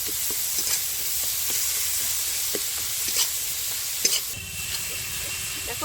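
Tomato, onion and green chili frying in a pan for a Bengali fish curry, with a continuous sizzle broken by repeated spatula taps and scrapes, close by, and a louder hiss near the end.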